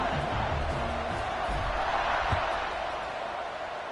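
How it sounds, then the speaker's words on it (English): A stadium crowd roars in a college football video game, a steady dense wall of cheering noise that stays loud and even throughout. "this crowd is feeling themselves after that last drive"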